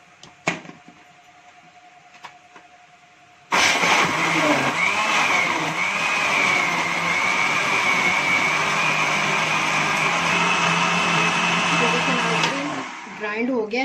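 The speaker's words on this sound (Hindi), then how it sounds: "अब हम इसको ग्राइंड करेंगे।" A kitchen blender grinds peaches with a little salt, sugar and water, starting abruptly after a few faint clicks and running loud and steady for about nine seconds with a rising whine before cutting off.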